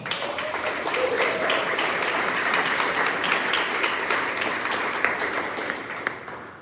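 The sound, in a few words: audience applause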